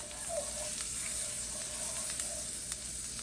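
Cumin seeds sizzling in butter and oil over low heat, a close, dense, continuous hiss with scattered tiny pops and crackles throughout.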